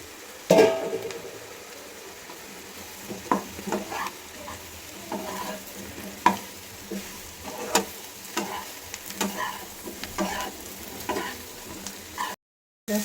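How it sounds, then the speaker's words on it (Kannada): Mushrooms tipped into a hot pan and stir-fried for a mushroom pepper dry, a steady sizzle with repeated scraping and stirring knocks of a spatula, close and clear with no talking. "ಇದಕ್ಕೆ ನಾನೀಗ ಮಶ್ರೂಮ್ ಹಾಕ್ತಾ ಇದ್ದೀನಿ ನೋಡಿ ಮಶ್ರೂಮ್ ಹಾಕ್ತೆ"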